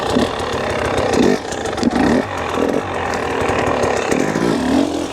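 A dirt bike engine revs hard in repeated bursts as the rider lifts the front wheel into a wheelie, its raspy note surging and easing at close range, with no one speaking.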